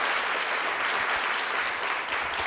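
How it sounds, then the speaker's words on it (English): A conference audience applauds a panel after a question-and-answer session on aging workers, a steady, even wash of clapping that holds through the whole stretch. "let's give a round of applause again for Renee and the panelists."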